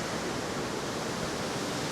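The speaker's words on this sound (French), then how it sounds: "À la cascade de Courmes, 60 mètres, 60-65 mètres." Steady, dense roar of the Cascade de Courmes, a 60–65 metre waterfall near Gréolières, heard alone as a continuous broadband rush with no voices.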